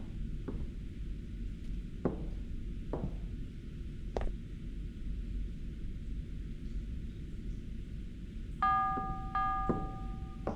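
A bell rung in a horror video game: a few isolated metallic strikes spaced a couple of seconds apart, followed by a brighter ringing chime near the end, heard over a low dark ambient rumble with no talking.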